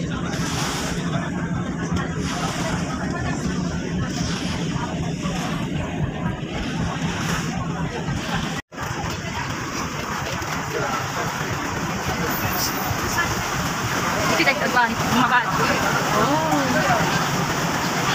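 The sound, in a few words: ferry boat ride on water in Hong Kong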